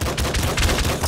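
Shotgun blasts fired in the video game Nuclear Throne, a rapid run of loud, dense gunfire bursts with no talking over them.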